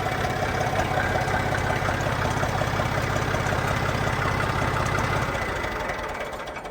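Loud, steady chugging of a Swaraj 855 tractor engine idling up close, its knocking rhythm fading slightly near the end.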